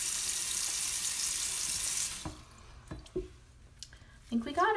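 Water runs from a tap steadily during a face rinse after a vitamin C mask, then cuts off, followed by drips, splashes and a brief voice.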